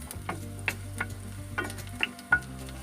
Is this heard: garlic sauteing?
yes